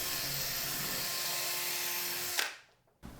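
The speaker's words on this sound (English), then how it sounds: "I'm going to use a drill bit to ream it out a little bit more" A drill bit reams out a damaged Phillips-head screw, a loud steady high whine for over two seconds that stops abruptly and fades, followed by a brief knock.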